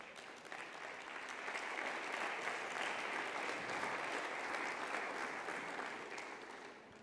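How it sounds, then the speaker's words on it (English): Summit audience in Porto applauds a speaker, a broad, even roar of many hands that swells in the first seconds and holds steady, slightly distant and without speech. "Please give us an applause for Stefan Löfven."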